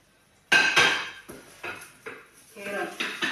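A metal lid is set down on a frying pan holding a large cooking potato pancake, giving a sharp clatter followed by several lighter clinks and knocks close by.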